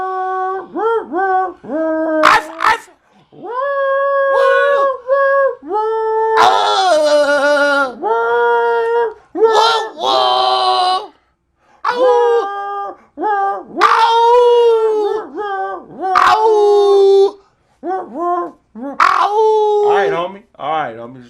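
Voices mimic dogs barking and howling to the melody of Silent Night, a run of sung bark-like yelps and drawn-out howls, loud and close, with brief gaps between phrases.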